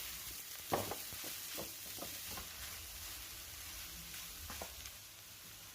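Soaked, squeezed meal maker chunks are stirred into masala in a pan, a faint low sizzle broken by repeated scraping and tapping of a spoon, no one speaking.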